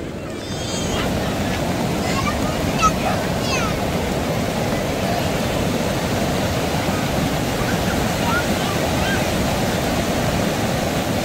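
The flooded Godavari river at Nashik runs in a fierce current, a loud, continuous roar of rushing water that stays close and steady throughout, with faint high sounds above it.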